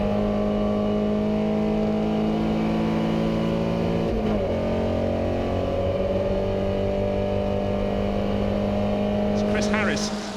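A Porsche 356 race car engine drones steadily at the Goodwood Revival, with a loud sustained note that shifts pitch partway through and a commentator talking over it.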